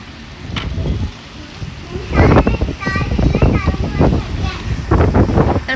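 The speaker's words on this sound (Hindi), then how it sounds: "बहुत तेज़ जो है ना हवा चल रही है, बारिश भी बहुत तेज़ हो रही है" Strong wind gusts and a heavy rain storm in Makkah roar against the microphone while a person talks through it.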